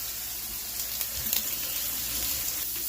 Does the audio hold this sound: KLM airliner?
no